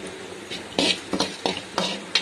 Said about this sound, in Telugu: ధనియాలు కొంచెం రోస్ట్ అవ్వగానే దీంట్లో మనము 1 టేబుల్ స్పూన్ జీలకర్ర వేసుకున్నాం.